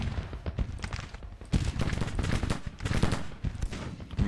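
Dense volleys of Mississippi rifle fire in a Civil War battle game, many overlapping gunshots crackling in rapid, irregular bursts, loud and continuous with distant booms mixed in.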